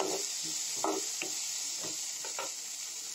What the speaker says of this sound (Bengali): এইখিনি দি পেলাই মই এতিয়া আকৌ অলপ ভাজি ল'ম